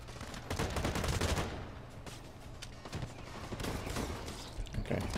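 Rapid bursts of automatic gunfire from the online shooter game Blacklight: Retribution rattle continuously and loudly, with dense overlapping shots filling the whole stretch.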